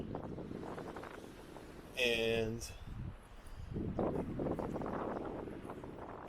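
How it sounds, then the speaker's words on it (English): Wind buffets the microphone in a steady outdoor rush at a mountain overlook, with a person talking over it and a brief louder gust or crackle near the start. "It's real windy up here"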